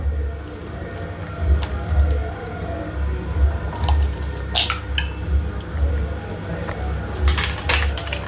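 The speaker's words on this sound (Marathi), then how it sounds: "तिथपर्यंत आपण हे अंडे फोडून घेऊया" An egg is cracked and beaten in a bowl while making Maral fish cutlets: close utensil clinks and wet squishing repeat in a steady rhythm throughout.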